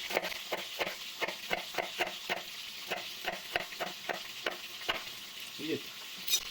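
Crucian carp with thin-sliced bell pepper and onion sizzling in a frying pan, with a steady series of stirring scrapes and taps over the constant frying hiss.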